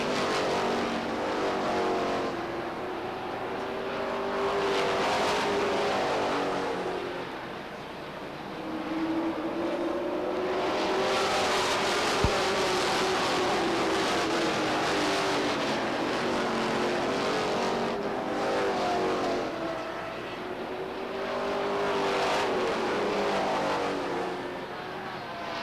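Stock cars race around Beech Ridge Motor Speedway, a continuous loud roar of engines rising and falling as the pack sweeps past in waves.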